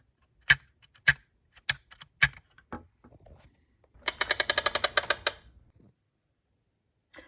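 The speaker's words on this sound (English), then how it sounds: "It rides on this gear right here." A few sharp, separate clicks ring out from a metal tab on a Remco Tiger Cat toy jeep, then a quick rapid run of metallic ticking as a small gear spins, fading into silence.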